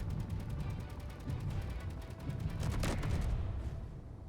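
An assault cannon fires in Space Engineers, with rapid repeated blasts over a loud, rumbling low background that swell toward a heavy booming cluster near the end.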